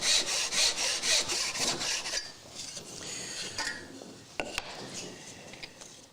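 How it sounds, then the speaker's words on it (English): Crosscut hand saw cutting pine wood, a quick run of rhythmic rasping strokes up close, then slower, quieter scraping and a few sharp knocks as the cut finishes, with no talking. "Now this is pine, so it's easy to saw"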